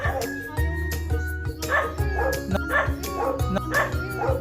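A nearby dog barks repeatedly in short, rhythmic yaps, some with a whiny edge, over faint background noise.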